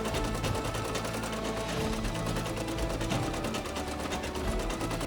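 A sewing machine embroiders blue parts onto a Rohan banner, giving a steady, fast mechanical stitching chatter that stays constant throughout.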